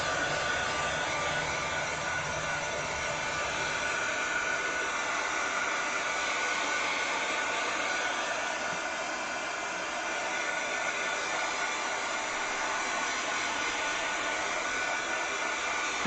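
Hair dryer running continuously to dry paste, a loud, even rushing whoosh held close for the whole stretch without speech.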